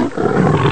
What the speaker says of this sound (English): elephant, elephant,